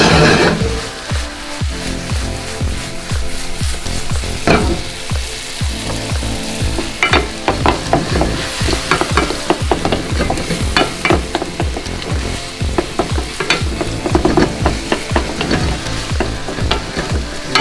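A tofu scramble with nutritional yeast sizzles steadily in a hot pan while a utensil stirs and scrapes through it, a continuous close frying hiss broken by frequent clicks and scrapes.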